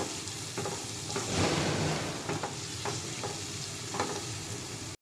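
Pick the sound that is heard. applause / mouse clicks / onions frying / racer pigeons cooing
onions frying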